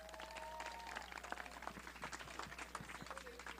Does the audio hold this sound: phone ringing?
no